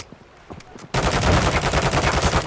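Rapid automatic gunfire erupts in a Call of Duty match, a dense, loud burst of shots following a brief quieter moment with a few distant pops.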